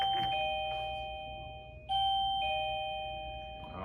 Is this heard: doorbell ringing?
yes